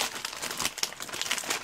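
Close, continuous crinkling of a plastic bag of small LEGO parts being handled, with sharp crackles scattered throughout and no talking.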